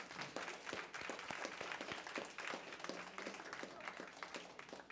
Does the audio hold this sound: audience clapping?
yes